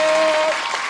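Loud crowd applause for schoolchildren of a school complex, a dense steady patter of clapping filling the whole second and easing slightly toward the end.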